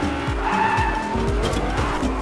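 Lamborghini-style car in Fortnite: a revving engine with repeated rising gear sweeps and steady tire squeal as it skids, loud and close throughout the short stretch.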